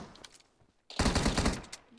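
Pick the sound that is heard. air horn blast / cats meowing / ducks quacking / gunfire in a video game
gunfire in a video game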